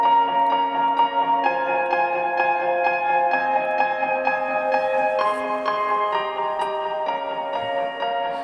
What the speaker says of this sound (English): I'm using the Alicia Keys piano from Native Instruments